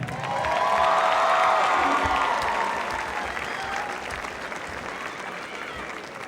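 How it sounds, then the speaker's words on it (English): Crowd applause in a high school basketball gym, loud sustained clapping that swells early then gradually tapers off over several seconds, with faint voices mixed in. "How about a nice round of applause for Coach Callahan?"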